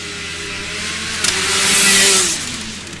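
A Formula Student race car at a historic acceleration event roars past, its engine note rising and sweeping as it accelerates hard and loud, with no talk over it.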